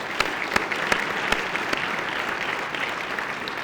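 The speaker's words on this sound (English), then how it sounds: "Let's have another round of applause for Lindsey Scott Jr., the award winner, and" Steady, full applause from the audience at a college football awards show, a dense patter of many hands with a few sharper claps standing out, continuing throughout.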